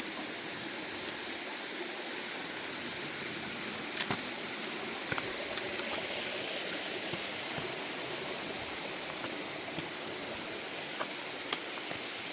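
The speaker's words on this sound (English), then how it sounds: "This is the third time I am crossing this brook." Mountain brook on Mt Lafayette flowing over rocks: a steady, hissing rush of running water, close and continuous, with a few faint clicks and no talking.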